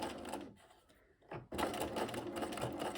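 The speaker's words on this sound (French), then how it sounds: "Et donc là, je vais commencer à coudre." A sewing machine stitches fabric in rapid bursts of mechanical chatter, pausing briefly midway before running steadily again at close range.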